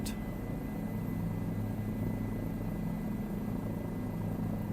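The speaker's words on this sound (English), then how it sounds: "I hear helicopter, hell yeah." A steady helicopter rotor drone from a video game hums continuously at a moderate distance, with no voices over it.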